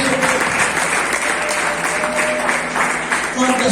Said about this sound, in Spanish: Dile fuerte aplauso a Cristo.